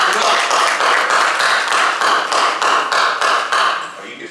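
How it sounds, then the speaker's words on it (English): A small group at a health talk claps together in a steady, rhythmic beat, about three claps per second, close and loud, before trailing off at the end. "Let's clap it up for my brother over here."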